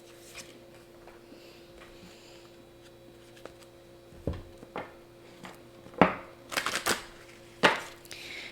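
Oracle cards being shuffled and drawn during a card reading, heard as scattered close, crisp slaps and flicks that grow louder and busier toward the end over a quiet room.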